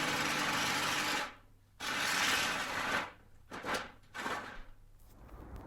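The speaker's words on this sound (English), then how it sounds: "We'll go with the Sawzall first." A Sawzall reciprocating saw cuts a shape out of a metal plate during bodywork on a Peugeot J9 van. Two loud buzzing bursts of cutting are split by a short pause, and choppier, shorter strokes follow.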